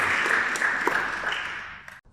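A short burst of clapping in a restoration workshop after a floor lifter is set flush. Scattered hands applaud briefly, then fade out over about two seconds.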